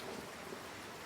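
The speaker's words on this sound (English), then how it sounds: "another torrential downpour delays their return for hours" Torrential downpour in the Amazon rainforest, a dense, steady hiss of heavy rain filling the whole clip with no voices.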